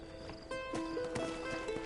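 Horse in the video game Red Dead Redemption gives a snorting whinny with hoof clops and footsteps, close and moderately loud over ambient game sound.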